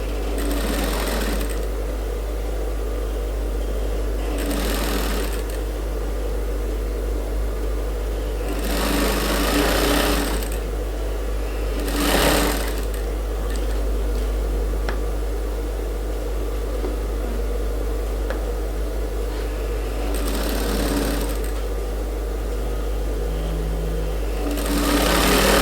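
A sewing machine stitches the side panel of a suit in repeated short bursts of rapid whirring, close and clear, separated by pauses over a steady low hum.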